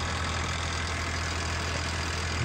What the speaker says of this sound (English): Just listen to this engine,